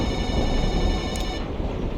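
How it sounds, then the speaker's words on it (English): A telephone rings in the Kentucky Route Zero video game, a steady electronic trill with bright harmonic tones held over a dense background bed, the ringing cutting off partway through. "Oh, but we have a phone call."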